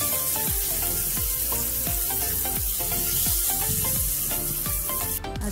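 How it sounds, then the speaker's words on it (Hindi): Fish fries in hot mustard oil, a loud, steady sizzle that fills the whole stretch close to the pan, with faint repeated scraping or clinking through it. "सरसों तेल डालेंगे, तेल को अच्छे से गर्म होने देंगे और मछली को एक एक करके"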